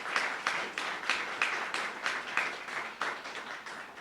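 An indoor crowd at a grand opening and ribbon cutting applauds, a steady patter of many hands clapping at moderate distance for a few seconds that gradually tapers off.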